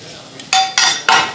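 Vegan burger patty cooking in a pan, three loud close bursts of sizzling and clattering separated by brief quieter gaps.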